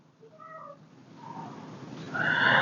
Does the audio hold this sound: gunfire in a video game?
no